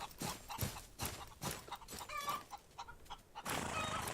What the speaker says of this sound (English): That's a chicken on the roof of my chicken coop.